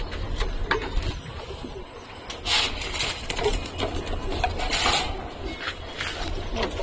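Pigeons coo softly in a coop during hot weather, with low murmuring calls and scattered wing and wood clatter close by.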